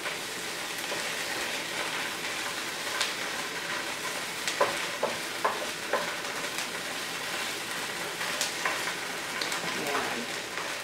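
Onions and garlic fry in a pan, giving a steady close hiss of sizzling with scattered scrapes and clicks of a utensil stirring them.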